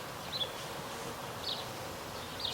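A low, steady buzz of honeybees at hives hums faintly in the background, with a few soft high chirps from birds at intervals.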